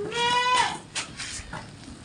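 A Peranakan Etawa goat gives a loud, wavering bleat up close, followed by a few shorter, rougher calls.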